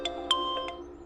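A phone ringtone, a few short bright chiming tones in quick succession, clear and fairly close against a quiet background.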